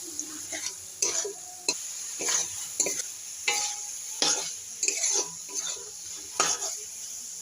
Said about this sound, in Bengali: ডুমুর দিয়ে আমি আরও কিছুক্ষণ ভালো করে কষিয়ে নেব।